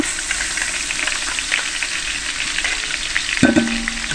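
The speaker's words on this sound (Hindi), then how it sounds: "तो इस टाइम पे आके इसमें हम लहसुन अदरक का पेस्ट शामिल कर देंगे।" Garlic-ginger paste fries with golden-brown onions in a large pot for chicken biryani, giving a continuous close sizzle with stirring scrapes and a louder clatter near the end.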